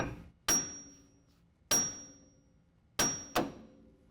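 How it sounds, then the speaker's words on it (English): A hammer strikes the steering knuckle of a 2017 Ford F-150 4WD to break the upper ball joint loose during a lift kit install. Four sharp, ringing metallic blows come close and loud, with the last two in quick succession. "we're gonna have to hit this again with a hammer to loosen this whole system"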